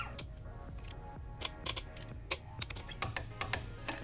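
Torque wrench tightening a frame slider puck on a 2013–2020 Honda Grom, making a series of sharp ratcheting clicks that quicken toward the end, close and fairly quiet.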